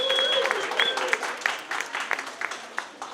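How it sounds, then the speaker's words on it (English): Audience applause at a community launch event, scattered claps that thin out over a few seconds while people talk over them. "if we get a round of applause for them as well"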